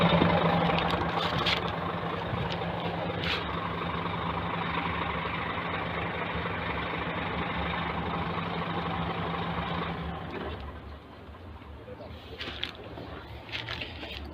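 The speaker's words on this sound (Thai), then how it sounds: "อ่ะเราไปดับเครื่องก่อน" A Scania P360 ten-wheel truck's engine idles with a steady low rumble, then is switched off around ten seconds in, leaving quieter background noise with a few faint clicks.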